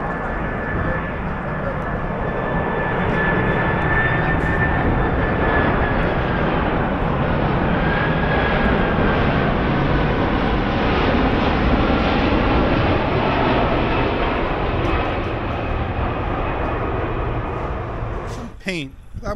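A large airplane approaching to land with its wheels down, a loud, sustained engine roar swelling overhead for most of the stretch before fading, with someone talking over it.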